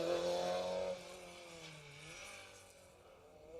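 A Ford Escort rally car on a rally stage sweeps past, its engine note loud and near at first, then dropping in pitch and fading as it moves away.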